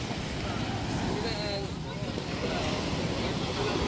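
Ocean surf at Alona Beach in Bohol, a steady wash of waves mixed with wind buffeting the microphone, with voices faintly present underneath.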